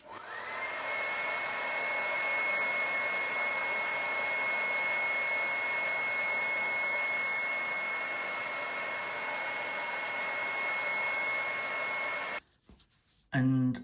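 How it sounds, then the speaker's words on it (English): A hair dryer runs continuously at close range with a steady whirring roar and a high whine while melting wax into canvas fabric, then switches off with some handling clatter. "And then all we do is take your hairdryer"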